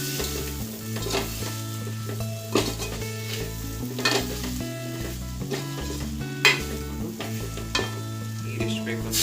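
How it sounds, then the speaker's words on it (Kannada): Chilli powder fries in hot oil with a lively sizzle and scraping stirs of a spoon against the pan, with a few louder clinks, over steady background music. "ಹಾಕ್ಬಿಟ್ಟು ಎಣ್ಣೆ ಒಂದ್ಸರಿ ಈ ಥರ ಫ್ರೈ ಮಾಡ್ಕೊಳ್ಳಿ ಪೌಡ್ರನ್ನ."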